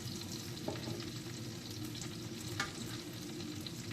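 Keto chicken pieces breaded in crushed pork rinds fry in a pan with a steady, soft sizzle and crackle, heard close and fairly quiet with a couple of faint clicks and no talking.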